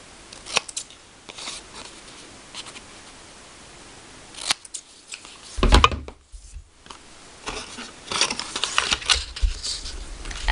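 Scissors snip through plaid-patterned paper in a series of crisp cuts, with bursts of rustling and handling noise between them, close and fairly loud, growing busier toward the end.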